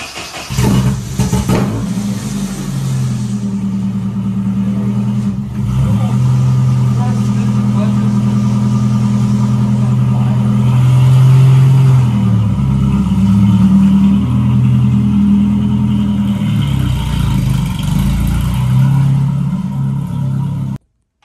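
Nissan S13 and Toyota AE86 cars are driven and swapped in a garage, their engines idling and revving loudly and close for a long stretch, with a few clunks early on and a brief cut at the end.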